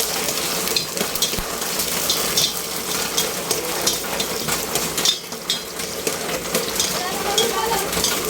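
Onion and ginger sautéing in a hot pan, a loud continuous sizzle broken by scraping and stirring clatter from a utensil, close and busy throughout.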